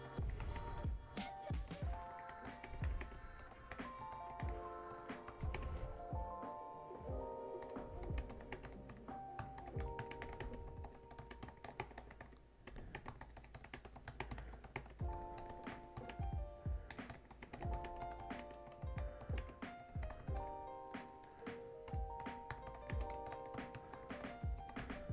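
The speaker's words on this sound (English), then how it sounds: "So let's type them a little note" A computer keyboard being typed on while writing a class announcement: quick, irregular clicking keystrokes in bursts, close and fairly quiet, with no talking over them.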